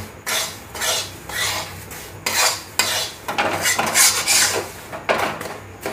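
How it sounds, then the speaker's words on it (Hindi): Repeated scraping strokes of a utensil against a pan as a semolina barfi mixture cooked in ghee and oil is stirred, with uneven rhythmic bursts and faint sizzling between them, close and alone. "इसी प्रकार चलाते ही रहना आपको"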